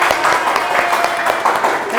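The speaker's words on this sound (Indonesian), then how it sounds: "Tepuk tangan untuk temannya." Classroom students clapping for a classmate, loud close applause running throughout with voices mixed in over the clapping.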